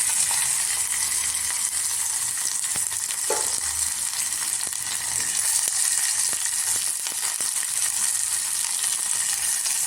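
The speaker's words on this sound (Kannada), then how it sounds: "ಇದೆಲ್ಲ ಸ್ವಲ್ಪ ಚೆನ್ನಾಗಿ ಫ್ರೈ ಆಗಲಿ" Garlic fries in a pan with a continuous bright sizzle, joined by faint scrapes and taps of stirring, steady and close for the whole stretch with no talking.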